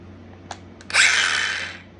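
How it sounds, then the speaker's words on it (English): A battery-operated Dremel Ultra Saw gives a couple of faint clicks, then its blade spins up with a loud, close, high whine that holds briefly and tapers off. "That blade spinning is loud."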